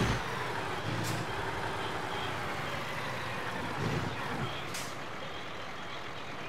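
Kenworth truck in American Truck Simulator backing up, a steady low engine rumble under two evenly spaced high reversing beeps, with a hiss of air brakes near the end.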